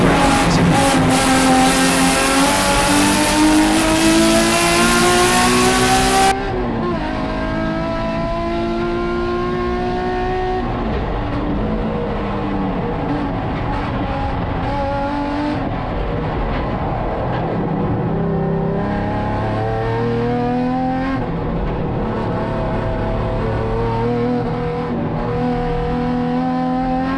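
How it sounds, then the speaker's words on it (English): A race car revs hard through a flying lap at a Canadian time attack event, its engine climbing and dropping through gear changes in loud, continuous onboard sweeps, with a wind-buffeted opening and no talk. "this is the first real flying lap the car's going to take with everything working"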